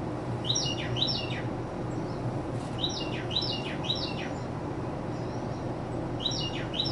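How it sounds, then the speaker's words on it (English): A Carolina Wren sings loud, repeated rolling phrases outdoors, three clear bursts of bright whistled notes spaced a couple of seconds apart over a low steady background hum. "This is one of the songs of the Carolina Wren."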